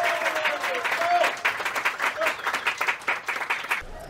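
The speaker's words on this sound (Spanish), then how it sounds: "Santiago Godó, un fuerte aplauso" An audience at an art exhibition in Tequisquiapan gives a lively round of applause, dense clapping from many hands that thins into scattered individual claps as it tapers off.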